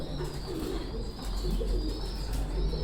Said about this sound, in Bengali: আমি আমার লফটের কিছু কবুতার আপনাদের দেখাচ্ছি